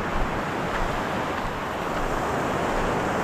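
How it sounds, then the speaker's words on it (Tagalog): Gentle sea waves wash against the shore at a shore casting fishing spot in the Philippines. The surf makes a continuous broadband rush mixed with wind, with no voices. "medyo mahina na yung alon dito"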